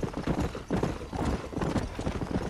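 Horse hooves clip-clop steadily in Red Dead Redemption, a close and continuous rhythmic clatter of several hoofbeats. The sound is loud and has no talk over it.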